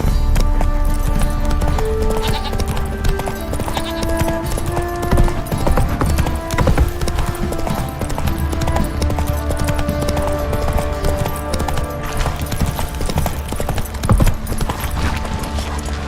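Horse galloping in the video game The Witcher 3, a fast, continuous clip-clop of hooves that stays loud and close throughout, over steady game ambience.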